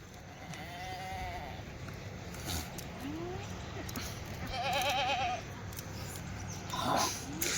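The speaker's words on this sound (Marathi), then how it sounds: "तुम्हाला आता शेळ्या सोडून दाखवतो" A herd of around forty Kathiawadi goats gives a few short, wavering bleats, fairly quiet and spread out over steady background noise, with faint voices nearby.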